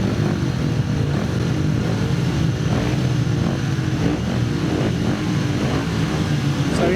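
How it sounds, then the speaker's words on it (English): Speedway motorcycles revving together at the start line before a race, a dense, loud, sustained engine roar with rising and falling revs blended into a constant din. "the bikes are revving away"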